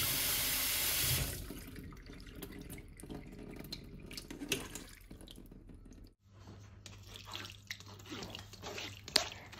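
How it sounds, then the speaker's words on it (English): Cold tap water rinsing cooked tapioca pearls in a sink, a strong rushing flow at first, then quieter splashing and dripping as the pearls are swirled close by. "rinse the pearls with cold water to remove excess starch and prevent the pearls from sticking together"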